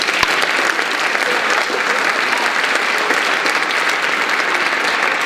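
An audience at a school performing arts awards show gives a sustained round of applause, dense even clapping filling the room for over five seconds with no talk over it.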